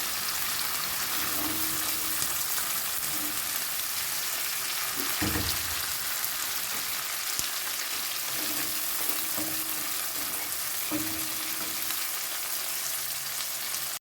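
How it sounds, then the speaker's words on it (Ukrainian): Steady, even sizzle of frying in pork lard fills the whole stretch, with a few soft knocks and faint scraping now and then, no voices. "Цей раз я використовую свинячий жир для зажарки."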